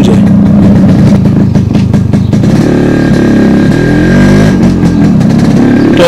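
A Yamaha RX100 motorcycle idling after a restoration, two-stroke engine running loud and close with a steady uneven burble and slight revs, no speech over it.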